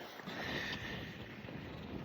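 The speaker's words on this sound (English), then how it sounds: "Why is it windy out here?" Steady wind buffets the microphone outdoors by a lake in a constant low rumbling roar with broad hiss, loud and unbroken throughout.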